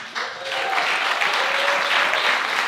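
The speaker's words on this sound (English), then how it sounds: "Give yourselves a round of applause." Applause from the audience at an in-person artist talk event, a dense, steady clapping that starts abruptly and holds at full strength, close and loud, with no talking over it.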